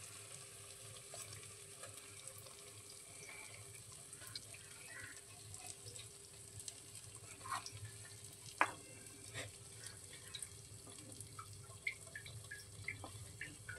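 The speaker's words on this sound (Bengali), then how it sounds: "মালপোয়াগুলো লাল করে ভেজে নেওয়া হয়ে গেছে।" Palm malpua frying in hot oil, a faint continuous bubbling sizzle with scattered soft clicks and taps of a utensil, heard at a low level with no talking.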